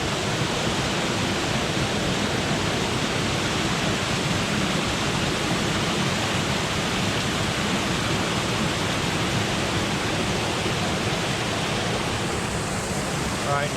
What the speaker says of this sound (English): There's Murhut Falls for you guys.